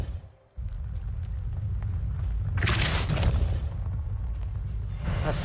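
A Depulso spell strikes in Hogwarts Legacy, giving a loud, rumbling magical blast that swells about halfway through and flares again at the end over a steady low background rumble.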